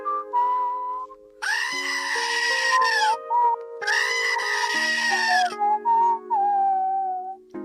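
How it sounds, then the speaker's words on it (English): A goat bleats in long, loud, drawn-out calls, two big sustained cries with shorter wavering bleats between them, heard alone and close. "For those who don't speak the language of the goats, here it is one more time"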